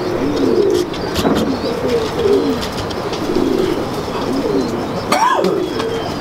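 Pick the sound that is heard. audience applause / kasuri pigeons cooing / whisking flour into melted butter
kasuri pigeons cooing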